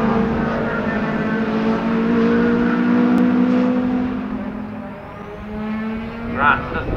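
Saloon race cars including a Chevy Camaro racing at Ruapuna, engines roaring loudly and holding steady revs as cars pass, with faint commentary-style voice beneath.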